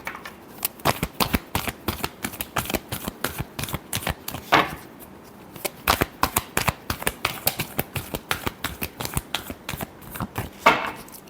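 Tarot cards shuffled by hand in quick, crisp riffling bursts with short pauses between, close and fairly quiet, with no talking.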